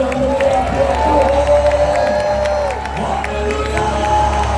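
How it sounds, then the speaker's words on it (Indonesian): A church congregation cheers and applauds loudly for God, a sustained, full crowd roar with whoops and shouts layered over a steady low hum. "Ayo berikan tepuk tangan yang meriah buat Tuhan."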